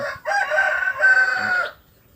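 A single long, loud squawking cackle from a nearby hen lasts about a second and a half, then stops.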